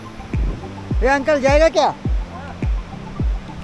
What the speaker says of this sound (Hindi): नीचे में पानी का फ्लो बहुत ज़्यादा है।